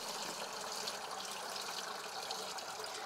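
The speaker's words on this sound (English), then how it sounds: "we're going to consolidate it down by the standard number 30 sieve" Water drains steadily through a standard number 30 sieve with 600 micron mesh, a continuous close trickle and splash with no speech.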